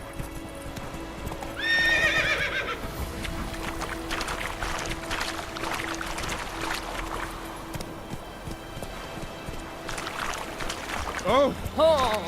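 Hooves clip-clop steadily as a horse gallops in The Witcher 3, with a neigh near the start and again near the end, and a voice speaking over the hoofbeats.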